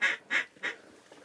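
Ducks calling over decoys during a hunt, three quick, fairly close raspy quacks in a row, then a fainter trailing call.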